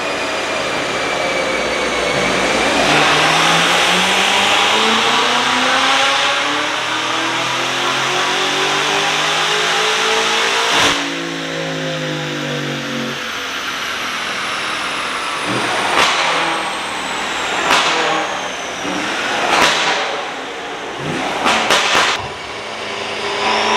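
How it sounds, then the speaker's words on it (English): A BMW F90 M5 with Eventuri intakes and a custom tune revs hard on a dyno, its engine pitch sweeping upward through the gears in a loud sustained pull, then sharp bursts and pops at the end. "We're going to make a pull."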